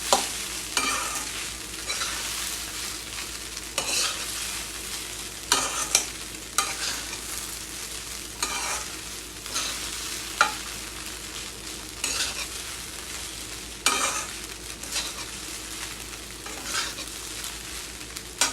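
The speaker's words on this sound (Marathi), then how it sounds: "मस्त हलवून घेऊया." A spatula works through sabudana khichdi in a pan, producing repeated close scraping strokes at an irregular, brisk pace over a gentle sizzle, with no talking.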